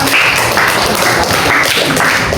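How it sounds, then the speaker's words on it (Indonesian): Classroom applause from a group of students, a steady dense patter of clapping that runs loud and continuous for the whole stretch with no voices over it. "Tepuk tangan untuk Evelyn ya."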